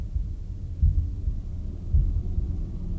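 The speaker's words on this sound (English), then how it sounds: "I can hear something" A muffled heartbeat pulses from inside a box in the puzzle video game The Room, heard as deep low thumps at roughly one-second intervals under a dark, rumbling ambient hum.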